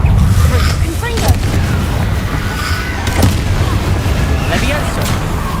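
A Confringo fire spell blasts in Hogwarts Legacy amid steady combat rumble, with a few sharp booming impacts over a constant loud background.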